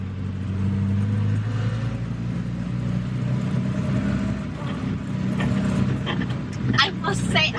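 A vintage car's engine runs steadily while driving on a road trip around Suffolk, a continuous mid-pitched drone with some rising revs, loud and close, while a voice talks over it.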